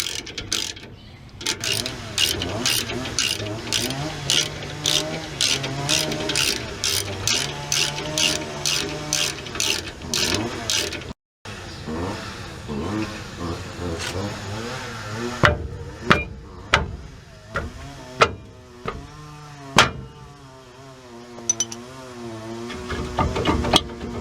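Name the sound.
stuck brake rotor being worked loose and breaking free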